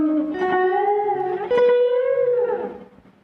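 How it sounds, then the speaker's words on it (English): A single guitar note phrase played through a Deluxe Memory Man set to a quick slapback with one repeat, bending and ringing out clearly before fading away. "I have it set to a very quick slapback setting with sort of a single repeat"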